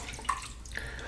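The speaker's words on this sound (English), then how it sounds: "A bit more water." Water is added to a shaving soap lather, Storybook Soapworks "Coffee Spoons", giving a couple of faint, brief drips and trickles that stand out against a quiet room.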